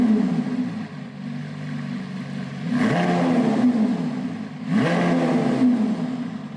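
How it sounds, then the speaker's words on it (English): Lamborghini Aventador SVJ V12 idling in Strada mode, a steady close rumble broken by two sharp throttle blips that flare up and settle back, loud and alone. "So I'm just gonna blip the throttle in Strada mode, and then we're gonna have it in Sport"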